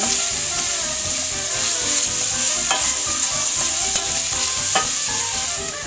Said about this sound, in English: Just stir it around here so it won't burn.